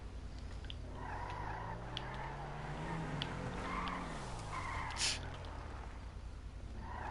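Car engine revving and tires skidding in GTA 5, a steady low drone with rising and falling pitch sweeps and brief squeals, fairly distant and moderately loud throughout.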